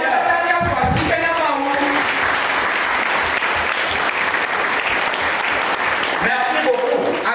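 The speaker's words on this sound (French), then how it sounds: "Ensemble, acclamons le Seigneur." Church congregation applauding together at a Sunday worship service, a dense sustained wash of clapping that runs steadily for several seconds, with a voice speaking over the start and again near the end.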